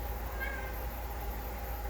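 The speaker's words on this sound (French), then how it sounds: "Je sais pas si vous l'entendez miauler." A house cat meows while playing with a plush toy monkey indoors, its cries faint and low in the room under a steady background hum, with no talking.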